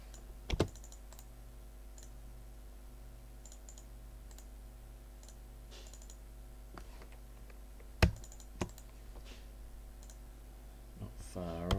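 Computer keyboard keys and mouse clicks while modelling a house in SketchUp: a few quiet, scattered clicks over a low steady hum, with a louder click cluster near the end.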